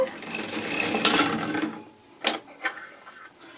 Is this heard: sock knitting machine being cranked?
yes